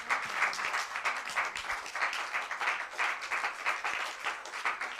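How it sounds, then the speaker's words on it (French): A church congregation at an evening worship service breaks into continuous applause, a fairly faint, even patter of many clapping hands heard from a distance. "Acclamez pour vous-même."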